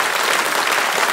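Applause in a Prague setting, a brief, steady burst of many hands clapping with no voices over it.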